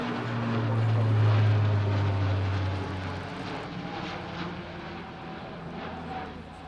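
An Alenia C-27J Spartan military transport flies an air show display with a loud, droning turboprop roar, strongest at first and then easing into a broad distant rumble.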